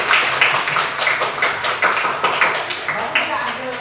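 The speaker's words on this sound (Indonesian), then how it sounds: "Silakan berikan tepuk tangan dulu." Students in a classroom clap for a group that has just presented, a loud, close burst of many hands clapping with rhythmic peaks throughout.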